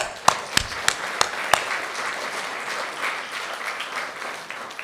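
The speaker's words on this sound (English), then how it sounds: "A little round of applause for all of that." Audience applause fills a celebration at a college's 75th anniversary gala opening, a few sharp claps leading into a steady, fairly soft ovation that lasts the whole stretch.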